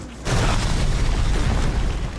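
A trebuchet shot in the Age of Empires: Castle Siege video game lands as one loud, booming impact, with a dense rumbling tail that holds steady for about two seconds.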